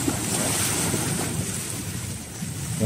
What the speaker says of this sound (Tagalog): Yan po yung hampas tangalo ngayon dito.